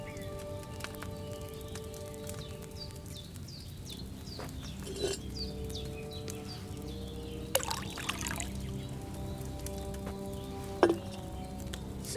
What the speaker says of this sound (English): Don't worry, I poured wine in there.